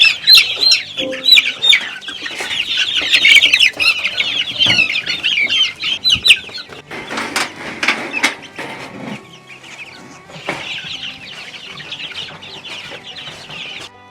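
Meat chickens in a chicken tractor cluck and squawk loudly and continuously close by, with busy overlapping calls and some scuffling.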